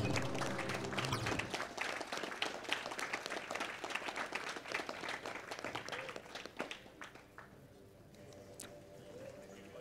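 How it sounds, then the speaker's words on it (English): An audience at the Summer Games Done Quick speedrunning event applauds loudly at first, the clapping thinning out gradually and fading to scattered claps and quiet near the end. "Let's hear one more round of applause for our runners."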